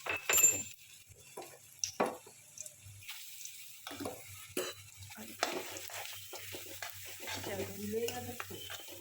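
A mixture frying and being stirred in hot ghee in a pan, with soft sizzling, scraping spoon strokes and intermittent clatter, fairly quiet and close.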